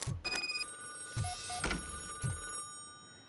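A telephone rings in the RoboCop: Rogue City video game, with repeated electronic ring bursts at an even pace, clear and fairly close, and no talking.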